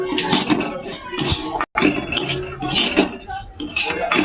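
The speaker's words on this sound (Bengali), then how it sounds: "ভালো করে নেড়ে চেড়ে সুজিটা একটু ভেজে নেব" Semolina being roasted in ghee in a pan, stirred with a utensil that gives frequent metallic scrapes and clinks against the pan, close and fairly loud, no talking.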